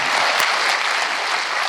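A concert hall audience at a comedy show claps in a dense, continuous burst of applause, loud and even throughout with no pauses.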